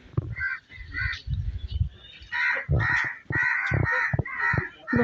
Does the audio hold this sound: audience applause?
no